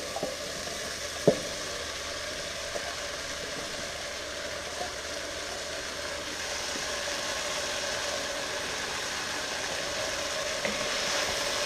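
Bora sizzles as it is fried in oil with tomatoes, onions and green seasoning, giving a steady, close frying hiss throughout, with an occasional faint clink or tap from the pan.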